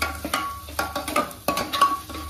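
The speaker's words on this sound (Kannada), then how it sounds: "ಇವಾಗ ಮಸ್ತ್ ಪಟ್ಟಿ ಫ್ರೈ ಮಾಡ್ತೀನಿ" A pan of food stirred and frying during biryani cooking: soft scraping stir strokes over a low sizzle, close up and steady for a couple of seconds, with no voices.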